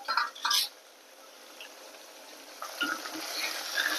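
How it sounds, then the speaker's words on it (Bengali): Ridge gourd and poppy seed curry frying in a pan, stirred in a few soft scrapes with a low, steady sizzle underneath, faint and close. "আমি আবার একটু নেড়ে দিচ্ছি। এখন একটু বারবার ঘন ঘন নাড়তে হবে।"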